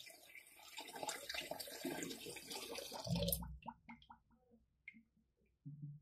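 A Doogee V30 rugged phone is plunged into a sink filled with water, giving a brief loud splash and gurgle, then sparse drips and small watery sloshes in a quiet room.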